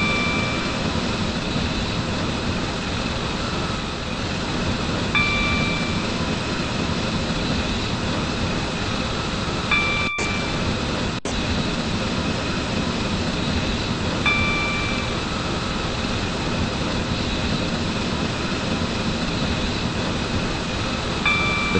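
A video game train approaches a station platform: a continuous loud rumbling roar with steady engine drone, a couple of sharp clicks, and faint tonal chimes recurring throughout.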